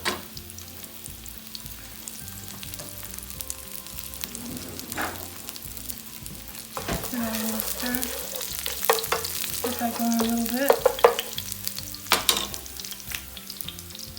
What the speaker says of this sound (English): I also like to start the olive oil and the garlic in the pan